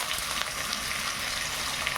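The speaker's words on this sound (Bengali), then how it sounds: "এর মধ্যে এই যে আলু ছেড়ে দিলাম, এই আলু গোটা গোটা আলু সেদ্ধ করে নিয়েছি।" Boiled whole potatoes go into a hot pan of oil, giving a soft, steady sizzle with faint scraping, heard alone at low volume.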